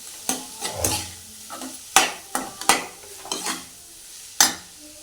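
Curry leaves tossed into hot oil for a dried fish thokku, giving bursts of crackling sizzle with stirring scrapes and pan clatter in a close, uneven rhythm, no talking.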